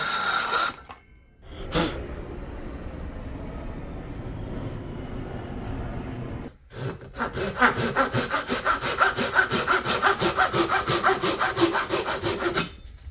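Hand sawing of wood for a guitar build: after a brief pause, a steady, rhythmic back-and-forth rasp of saw teeth cutting through wood, close and loud, with even strokes continuing for several seconds.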